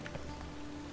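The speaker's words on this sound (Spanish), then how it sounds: "No, realmente está lloviendo en mi casa." Steady rain falling in a Witcher 3 game scene, a soft continuous patter of drops with a faint low hum underneath, even and unbroken throughout.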